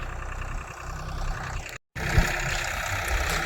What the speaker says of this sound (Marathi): अजून चालू आहे, कडला आलाय ट्रॅक्टर.